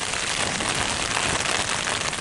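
Hard, relentless rain pours down in a windy storm on Antelope Island, a steady, loud roar of drops with no speech over it.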